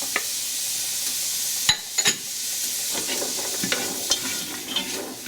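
Celery and carrots sizzle steadily in butter in a pan on turned-up heat, a continuous close frying hiss broken by a few sharp clicks and scrapes of stirring, with no talking.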